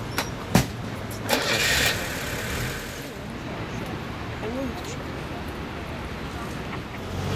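A car on a city-centre street passes nearby, its engine noise swelling briefly and then fading into a low steady street hum, with voices audible in the background.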